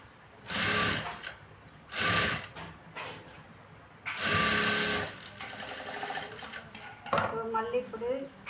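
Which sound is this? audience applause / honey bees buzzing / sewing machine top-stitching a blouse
sewing machine top-stitching a blouse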